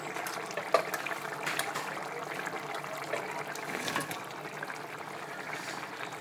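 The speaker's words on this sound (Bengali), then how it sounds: "তরকারিতে জাল উঠে গেছে।" Curry boils in a covered cooking pot, giving a soft, continuous bubbling hiss with occasional louder pops, fairly quiet and steady throughout.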